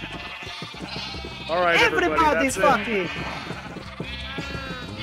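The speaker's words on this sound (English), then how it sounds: "Oh, look, dude, there's baby sheep, bro." Sheep bleat in a Minecraft VR survival game, a wavering cry rising for about a second and a half in the middle, heard under steady, loud talk from several players.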